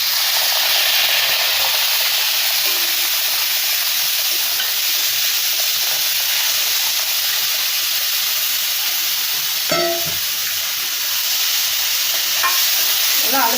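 Semolina simmers in hot water in a wide pan for ukkarai, giving a steady close sizzling hiss with soft stirring scrapes throughout, and a brief clink near the end.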